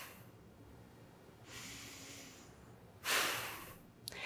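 During a relaxing yoga pose a person breathes audibly, first a soft airy breath and then a strong, close exhale through the nose lasting about a second, ending with a faint click.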